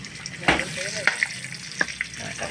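Garlic sizzles and crackles in a hot pan while being stir-fried for a curry paste with long beans and pork, a steady frying hiss broken by several sharp spatters and stirring clatters.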